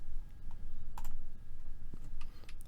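Keyboard presses and mouse clicks in MuseScore notation software on a computer, a handful of crisp, close clicks scattered unevenly over a faint background rumble.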